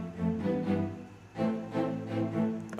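Short synth strings from an electronic song play dry without EQ, sustained chords swelling and fading in a slow pulsing pattern, fairly soft and alone.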